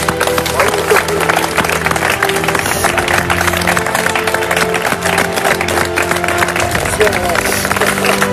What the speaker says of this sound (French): ça mérite qu'on vous applaudisse